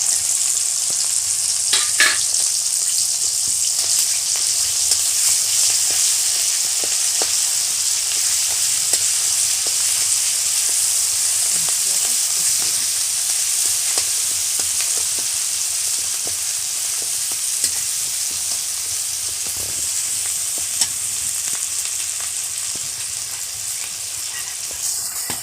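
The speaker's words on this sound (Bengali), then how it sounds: "এবার যে নারকেল কুড়া, আদা, টমেটো কুচি বেটে রেখেছিলাম সেগুলো এবার তেলের উপর দিয়ে দিলাম।" Ground paste of grated coconut, ginger, chopped tomato and poppy seed sizzling steadily in hot oil for a Bengali soyabean malaikari, with a continuous bright hiss and occasional stirring scrapes, no talk.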